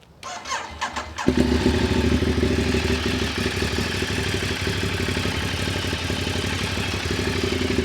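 A Ducati Diavel motorcycle engine cranks and fires up, then settles into a loud, steady, throbbing idle close by with a low mechanical rumble.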